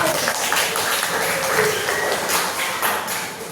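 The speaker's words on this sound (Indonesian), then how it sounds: "beri tepuk tangan buat aku" A classroom of students claps together for a teacher, a steady, fairly loud patter of many hands that tapers slightly at the close.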